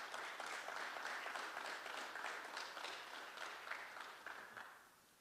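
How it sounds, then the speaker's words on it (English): Audience applause welcomes Commissioner Q. Tucker of the North Carolina High School Athletic Association at a high school football media day, a steady wash of many hands clapping at moderate distance that tapers off toward the end. "Let's give her a round of applause"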